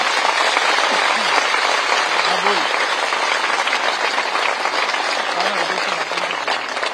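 A crowd at a political rally applauds on request, with loud, sustained clapping from many hands. Voices occasionally call out over it.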